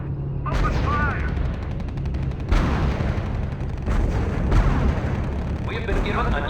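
Artillery and gunfire from the video game R.U.S.E. rumble as heavy booms and crackling volleys over a constant battlefield din, with voices talking through it.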